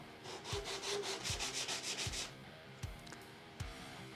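Steady back-and-forth rubbing strokes of a jointer blade's primary bevel on a Veritas sharpener, a rapid run of close, quiet scrapes followed by a few slower isolated strokes.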